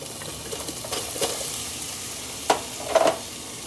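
Canned jackfruit hits a hot frying pan for a vegan gyro, producing a continuous hiss with a few sharper splashes and crackles near the end as pieces land and get stirred.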